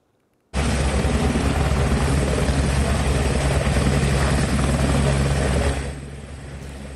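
Personal helicopter arriving at a monastery, its loud steady rotor thump and turbine whine filling the scene from the start, holding strong before easing slightly near the end.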